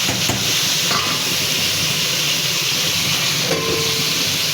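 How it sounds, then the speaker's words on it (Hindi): Bitter gourd (karela) slices fry in hot oil in a kadai, giving a loud, continuous sizzling hiss with occasional faint clinks, close up and without talk. "ये करेले हमारे फ्राई हो रहे हैं।"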